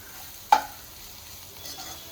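Vegetables are stirred and sautéed with coarse gram flour in a pan, with a sharp scrape of a spoon followed by a quiet, low sizzle and a second fainter stir, close by and with no speech.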